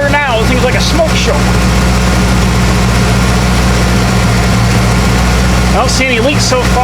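A Ford F250 OBS truck engine with new manifolds idles steadily after its first start, a loud, even low rumble running throughout, with someone talking over it and birds chirping briefly at the start and end.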